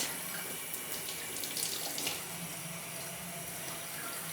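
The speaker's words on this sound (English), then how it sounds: "I'm going to go ahead and get my bathtub wet" Tap water runs steadily into a bathtub to wet it before cleaning, a continuous close hiss and splash that holds level throughout with no talking.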